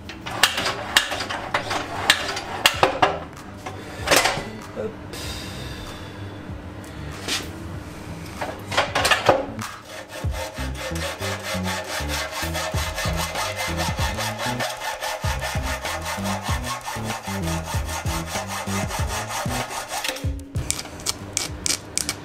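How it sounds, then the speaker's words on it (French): Hand saw cutting through a metal tube, trimmed to match the thickness of wood for a homemade adjustable dowel jig: steady rasping back-and-forth strokes, close and loud, with brief pauses early on before a long continuous run of sawing. "on va découper notre tube métallique à la même épaisseur que notre bois."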